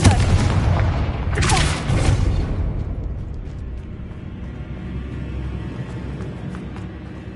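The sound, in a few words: Confringo explosion spell in a Hogwarts video game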